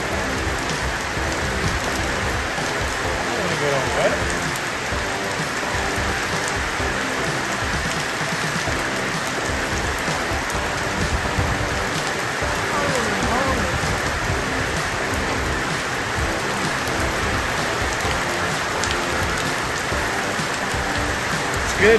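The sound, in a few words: rain pouring off a roof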